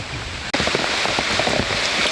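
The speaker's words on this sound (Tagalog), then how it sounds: "Sabi na abtan mig ulan diri ah, sa among gisakyan nga kuan." Rain drums steadily on a Fortuner vehicle, a dense, close hiss of drops pattering on the car body that starts abruptly and continues loudly.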